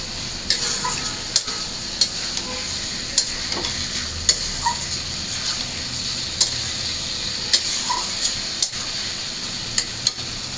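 Vegetables hit a pan of frying spice paste and sizzle steadily up close, with sharp ticks and clacks from a stirring utensil at irregular intervals throughout.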